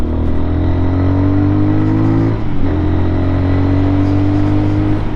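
Lifan KPM 200 motorcycle with a 200cc engine, new and on a break-in ride, droning steadily at cruising speed with a brief dip in pitch as the rider shifts, close and loud with constant wind rush.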